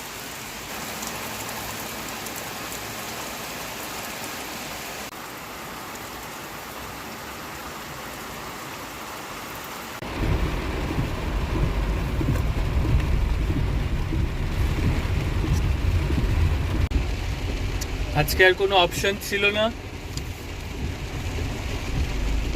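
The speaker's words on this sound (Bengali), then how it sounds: "গাড়ি ছাড়া যাওয়ার ভয়ঙ্কর জোরে বৃষ্টি হচ্ছে আজকে" Heavy rain pours down in the Netherlands, a steady dense roar that grows louder and fuller about halfway through, with a brief crackling burst near the end; thunder may sound among the downpour.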